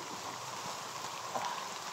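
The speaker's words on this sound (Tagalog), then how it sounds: "Ang lakas ng ulan." Heavy rain falling outdoors, a steady, fairly faint hiss of drops with no talking.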